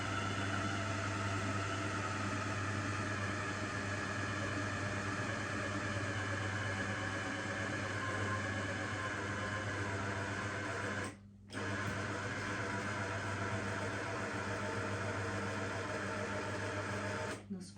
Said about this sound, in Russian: Блендер у меня вот такой вот.